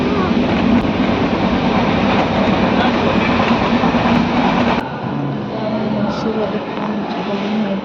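Train at a clean railway station on a trip from Bangalore, a loud continuous rumble of rolling carriages that drops abruptly to quieter station ambience partway through.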